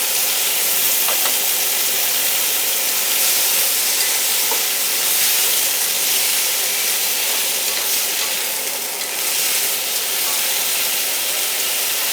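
Lotus root, meat, carrots and beans stir-fry in a hot pan with a steady, loud hiss and sizzle throughout, with occasional faint scrapes of stirring.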